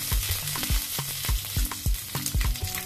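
Cumin, mustard seeds and green chillies crackle and sizzle loudly in a hot pan, close up, with rapid popping bursts and spatters and no voices.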